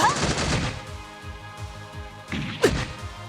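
Combat in the game Trails to Azure with enemies shooting rocks: sharp repeated thwacks and impacts in quick succession, whooshing hits and a stronger crack near the end, loud and close, with no talk.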